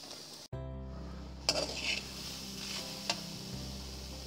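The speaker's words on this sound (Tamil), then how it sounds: "வேக வச்ச கடலைப்பருப்பை நம்ம கடாயில போட்டுக்கலாம்." Boiled chana dal is tipped into a kadai with a soft thud, followed by a few light metal clinks and scrapes against the pan over a low steady hum, quiet and close, with no talking.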